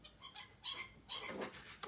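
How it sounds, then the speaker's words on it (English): Birds chirp outside in short, high, repeated calls, faint and somewhat distant, with no talk over them. "now the birds are having a little chirp"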